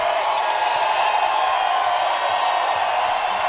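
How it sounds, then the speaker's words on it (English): Crowd roaring at a Florida State women's basketball game against NC State, a loud, sustained arena din of cheering that stays dense and steady from start to finish with no break. "she gets the crowd to its loudest point"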